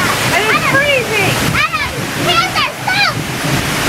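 A powerful Icelandic waterfall roars steadily and loudly, heard from the space behind the falling water. Excited voices shout and talk over the constant rushing noise.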